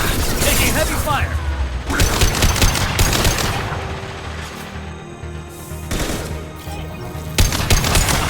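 Heavy video-game gunfire crackles in rapid bursts with booming hits, loud and close, while shouted in-game voices talk over the shooting.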